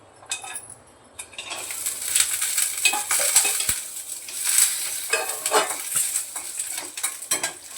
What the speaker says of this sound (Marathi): थोडंसं तेल घातलं आणि पहिलं खोबरं भाजून घेते.